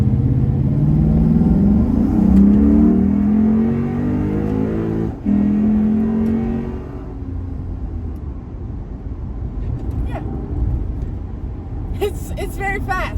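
A modified Lexus IS F accelerates with a loud, rising engine roar through the first half, then eases into a quieter rumble as someone talks inside the cabin.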